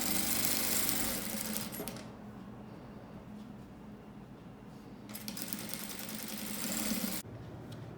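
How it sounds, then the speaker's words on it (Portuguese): Sewing machine stitching a seam with a zipper between two fabric layers on a bag organizer: two runs of fast, buzzing mechanical stitching, with a quieter pause between them. "vamos fazer mais uma costurinha"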